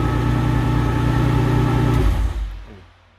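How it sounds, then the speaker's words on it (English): A truck drive line runs with no wheels or tyres fitted and a partially engaged clutch, giving a steady mechanical drone with a chattering rattle that winds down and fades to silence near the end. "Don't worry about the chattering, that's partially engaged clutch"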